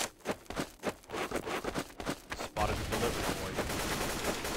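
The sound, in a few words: gunfire in video game Counter-Strike Source mod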